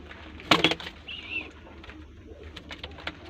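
Female Teddy pigeon coos softly and briefly amid faint bird rustling and background ambience, after a short louder thump or flutter nearby.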